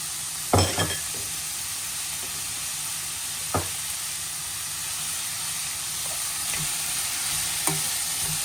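Vegetables and mixed peppers stir-fry in a hot pan, a steady close sizzle broken by a few sharp scraping stirs, the loudest near the start and others spaced through the clip.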